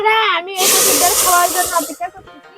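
A loud burst of sizzling and hissing erupts as a hot tempering of onion, dal spices and cumin hits a pot of taro-leaf lentils, with a voice before and after the sizzle.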